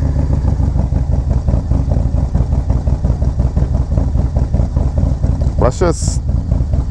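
A new Harley-Davidson Low Rider ST with a 131 engine idles with a steady, low, throbbing rumble throughout while someone talks over it nearby.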